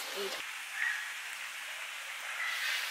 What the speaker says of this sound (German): es fängt gerade an zu regnen